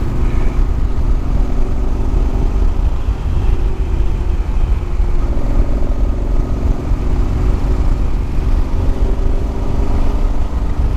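Moto Guzzi Quota motorcycle on a test ride, its engine droning loud and close with steady low rumble and rushing wind noise throughout, no voices.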